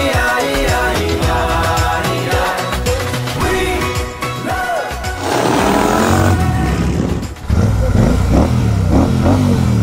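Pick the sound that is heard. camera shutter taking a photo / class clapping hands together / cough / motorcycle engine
motorcycle engine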